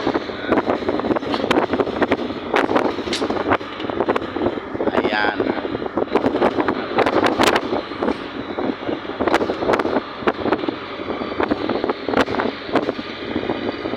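Strong wind buffets the microphone in gusty bursts outdoors by the sea, with a person speaking briefly under the rumble.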